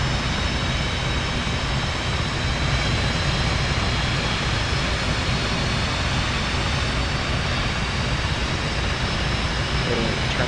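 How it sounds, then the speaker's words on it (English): An F/A-18 jet engine starts up in DCS World, giving a loud, steady broadband roar with a faint high whine that holds constant throughout, with no voices over it. "We're going to crank engine 1."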